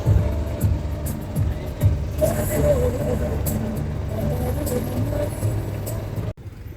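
An auto rickshaw engine heard from inside while riding, a loud, steady rumbling drone with rattles and faint voices mixed in, cutting off abruptly near the end.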